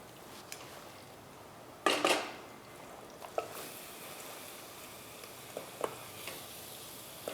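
Butter frying in a pan over medium heat gives a steady, quiet sizzle, with a brief louder crackle and burst near the middle and a few soft clicks of a utensil afterward.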